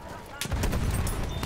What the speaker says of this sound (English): I'm just gonna randomly chuck in some big fucking nades.